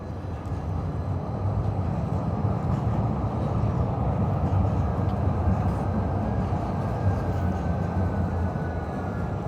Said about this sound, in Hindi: तो ये जो ट्रेन अभी आपने देखी